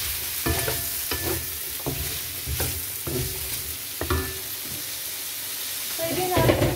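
Celery and scallops are stir-fried in a pan, with a spatula scraping in regular strokes about every half second over a constant close sizzle; a sharper clatter comes near the end.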